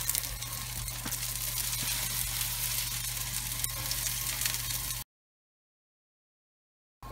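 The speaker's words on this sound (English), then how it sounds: "So then I'm just going to drop in a frying pan that's red hot." Marquise potatoes browning in a red-hot frying pan give a steady, close sizzle with a low hum beneath, lasting about five seconds before cutting to silence.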